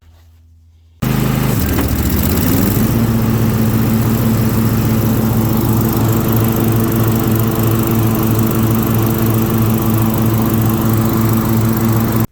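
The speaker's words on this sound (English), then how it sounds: "the mower deck is working just fine" A riding lawn mower's engine kicks into life after a short quiet moment and runs loud and close with the mower deck engaged, a steady droning hum that holds constant throughout.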